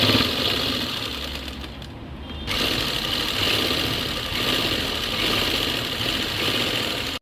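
A sewing machine stitching a churidar-cut nighty whirs steadily and close, with one short pause in the middle before the running hum resumes to the end.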